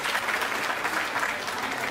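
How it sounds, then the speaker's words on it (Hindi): Dense, steady applause from a full audience at a live comedy show, a continuous wash of many hands clapping at once and heard close. "एक बार पूरा सदन मुझे ताली बजा के आशीर्वाद दे"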